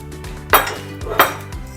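Spoon clinking against a bowl while salmon pieces are stirred into a tart filling, two distinct knocks about half a second apart over a quiet background.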